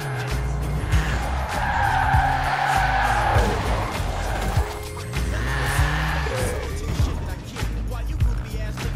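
A Toyota Trueno does tire burnouts in a Forza video game, with loud sustained tire squeal and skidding over a revving engine in two long waves, close and prominent.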